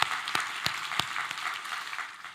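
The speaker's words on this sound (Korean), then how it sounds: "우리 하나님께 감사의 박수를 드리겠습니다" A church congregation gives applause of thanks to God during a Korean worship service, a brief, fairly quiet spatter of clapping with a few sharp distinct claps standing out over a soft wash.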